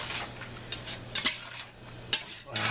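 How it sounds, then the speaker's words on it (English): A spoon stirs canned Rotel tomatoes into a pot of beans and onions, giving scattered clinks and scrapes against the pot over a low steady hum, fairly close and moderate in level. "throw in some Rotel. Boom, boom, boom. Rotel's mixing in."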